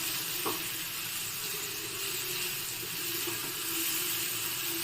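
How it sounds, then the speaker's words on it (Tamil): Sweet potato and banana sautéing in a pan, a steady close sizzle and hiss running throughout with a few faint stirring taps, no voices. "நல்லா ஒரு ரெண்டு நிமிஷம் நல்லா வதக்கி விடலாம்"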